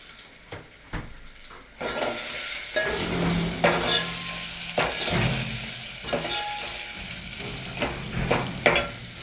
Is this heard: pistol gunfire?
no